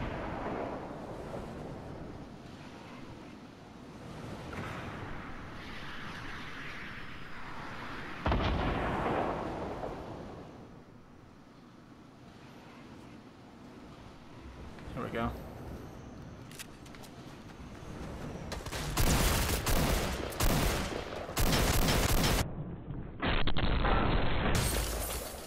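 Gunfire and explosive bursts in a Fortnite Solo Showdown match on Nintendo Switch, with a few sharp shots near the middle and a loud, dense cluster of blasts toward the end over a low game-ambience bed.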